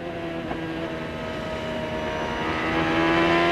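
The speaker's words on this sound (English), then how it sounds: "here's a good opportunity to kind of listen to that throttle" A 1999 CART IndyCar engine heard on board Jimmy Vasser's car at Milwaukee, a high sustained whine that holds steady and then rises as the throttle opens, close and continuous.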